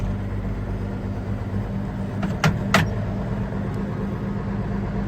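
A diesel engine runs steadily after a cold start on a farm, a low, even drone throughout with a couple of brief metallic clicks near the middle.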